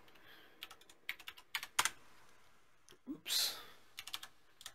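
Quiet typing on a computer keyboard while entering a network gateway address, irregular clusters of light keystrokes with one brief spoken word and a short louder burst partway through.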